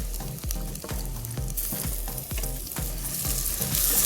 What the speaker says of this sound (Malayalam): അതിട്ട് വീണ്ടും വഴറ്റാം.